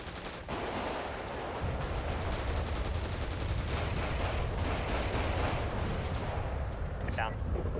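Sustained automatic gunfire rattles through a police roleplay shootout in SantosRP, dense and continuous over a low rumbling bed, with brief voice chat layered in.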